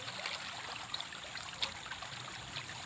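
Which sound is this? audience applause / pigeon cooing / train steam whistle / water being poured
water being poured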